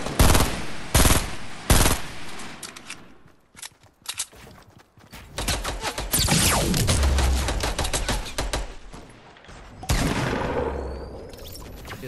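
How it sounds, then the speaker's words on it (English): Video game gunfire crackles in loud, rapid automatic bursts, several sharp volleys early, then sustained shooting that runs nearly continuously to the end. "How you gonna tell me not to shoot and then start shooting?"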